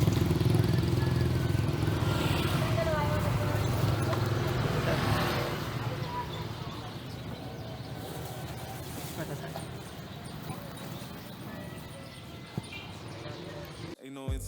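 Motorcycle taxi riding, with a continuous engine drone and road rumble that eases slightly partway through, close and steady, with a brief thump near the end.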